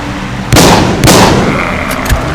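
Two loud gunshots fired in the zombie survival video game Walking Zombie, each a sharp blast trailing off into a rumbling decay, about half a second apart, with no talk.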